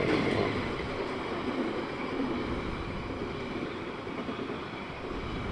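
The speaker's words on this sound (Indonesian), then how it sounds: "Kereta apinya datang." A train rumbles steadily past at close range at a gated railway crossing, a broad rushing roar of wheels on rails that slowly eases in loudness as it goes by.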